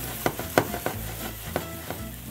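Shrimp frying in a pan and being turned over, a steady sizzle punctuated by a few sharp clinks and taps of the utensil, close by with no talk.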